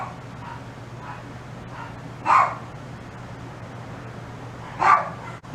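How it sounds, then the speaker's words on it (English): Dogs bark twice in the distance, a few seconds apart, against a steady low hum of room noise. "I'm going to pause for a bit so that the dogs can kind of finish barking."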